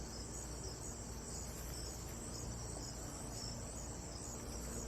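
Crickets and cicadas chirping outdoors at night, a steady high-pitched shrill drone with a constant pulsing trill, faint and continuous with no voices.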